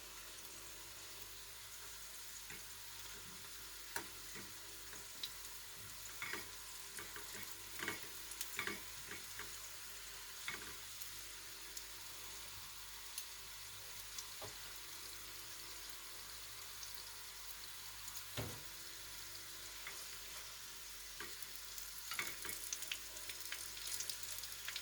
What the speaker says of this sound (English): Let's turn them around again. That ensures that they're cooking evenly.